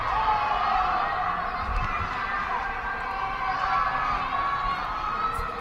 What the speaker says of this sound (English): People just stick their heads out of windows and yell and scream